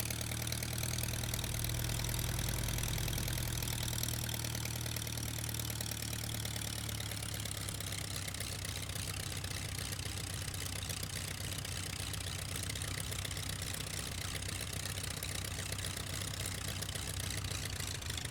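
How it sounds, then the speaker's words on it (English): A Tiger Moth biplane's piston engine idles while the aircraft taxis in Microsoft Flight Simulator, producing a constant, close, throbbing rumble with a rapid knocking texture that holds steady throughout, without any speech. "There is a charm to a piston engine, isn't there?"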